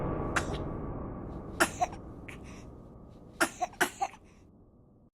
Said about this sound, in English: She started coughing and choking.